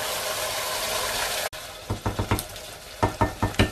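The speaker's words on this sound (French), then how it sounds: "Je vais mettre ma sauce tomate dans la préparation de... Voilà. de la poitrine et des oignons." Tomato sauce poured over smoked pork belly and onions in a pan: a loud, even sizzle that cuts off abruptly, then a run of rhythmic scraping stirs, close and distinct.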